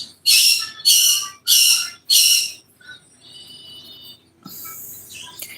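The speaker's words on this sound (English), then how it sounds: "My birds have opinions about it" Pet birds indoors chirp in four loud, bright bursts of rapid shrill calls, followed by softer sustained whistling and another burst of squawky chatter near the end.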